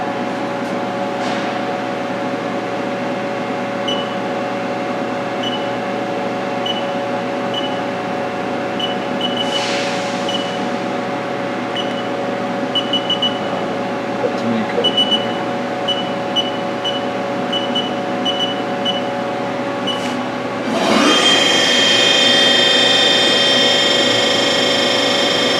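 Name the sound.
Haas ST-30SSY CNC turning center spindle running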